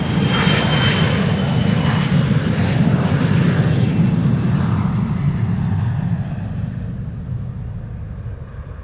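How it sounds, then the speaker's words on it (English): A KLM Embraer 175 jet departs Amsterdam Schiphol with a loud, steady engine roar that slowly thins and fades as it climbs away. "This is KLM flight 1201 to Oslo. Embraer 175."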